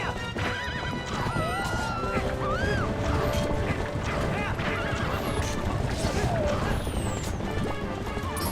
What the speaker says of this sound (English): Hey, the horse is running in circles. Look at that, it's startled by the bombs.